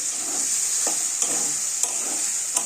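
Spices and potato pieces being fried in a pan for a tengra fish curry with tomato, a steady bright sizzle with a few sharp stirring scrapes at intervals, close and alone.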